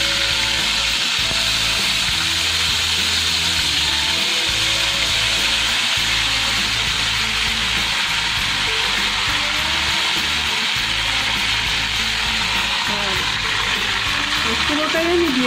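Pieces of katla fish fry in hot oil over a low gas flame, giving a steady, even sizzle and hiss throughout, with a low voice faintly underneath.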